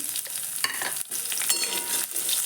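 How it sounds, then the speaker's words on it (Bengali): Chopped onion and green chilli frying in oil with panch phoron, a steady close sizzle broken by scraping stirs, with brief dips where the spatula pauses. "পাঁচফোড়নটা একটু নেড়ে নিয়ে তার মধ্যে দিয়ে দেব কুচানো পেঁয়াজ আর কাঁচা লঙ্কা কুচি"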